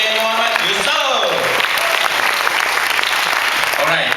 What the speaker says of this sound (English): One more round of applause to our senior director, Yusaini Yusoff.